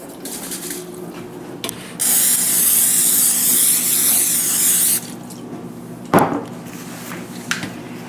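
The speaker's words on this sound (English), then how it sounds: "we're gonna go ahead and spray down these racks just to keep the bacon from sticking to it" A spray can or bottle hisses steadily for about three seconds as smoker racks are coated before deer bacon goes on, loud and close, followed by a sharp clatter and a few light knocks.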